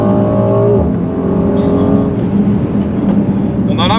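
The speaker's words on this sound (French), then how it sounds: "alors le V8 quand même c'est vraiment du plaisir de l'entendre" The V8 of a Mercedes-AMG GLC 63 S Coupé revs loudly on a small road, a strong close engine note rising then falling away, with faint speech.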